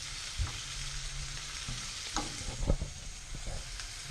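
Meat sizzles in olive oil in a pan on the stove, a soft, steady crackling hiss broken by a few louder pops and the scrape of stirring, heard close up with no talking.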